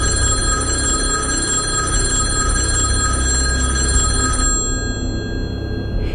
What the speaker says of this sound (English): were just about to go to sleep when the phone rang.